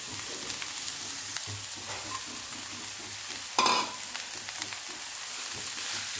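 Chopped cabbage fries in a pan for momos with a constant close sizzle and soft stirring scrapes, including one brief louder clatter midway, with no talking.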